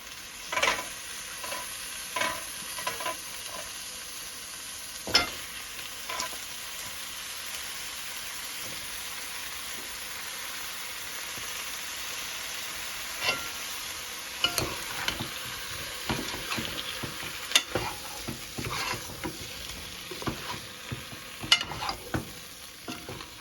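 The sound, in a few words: eggplant frying with masala for beef curry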